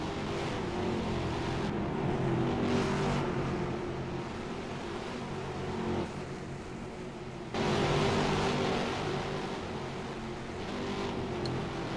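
Race cars roar around the Milwaukee Mile in a racing video game, a dense continuous engine drone that swells sharply as a pack flies past, then settles back to a steady rumble.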